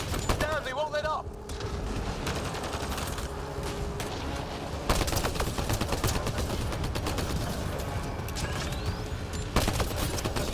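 Dense, continuous gunfire from a firefight in the video game Mass Effect Andromeda, with rapid shots and bursts layered over each other throughout, loud and close, with a short lull early on before the shooting surges again.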